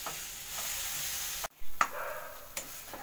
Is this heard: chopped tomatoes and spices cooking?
yes